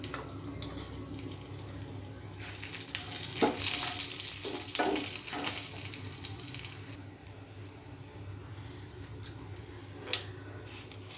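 Mustard seeds, cumin seeds and dry chilli fry in about two tablespoons of oil for South Indian coconut rice, a soft continuous sizzle with a few louder crackles and pops, no voices.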